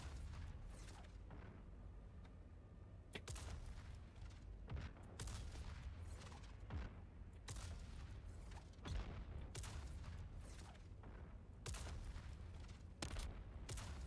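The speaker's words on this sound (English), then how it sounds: "I don't even know where those bullets are coming from." Distant, scattered gunfire in Dune Awakening, sharp cracks and short volleys popping irregularly over a low rumbling background, no voices.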